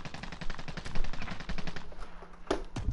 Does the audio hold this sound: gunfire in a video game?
yes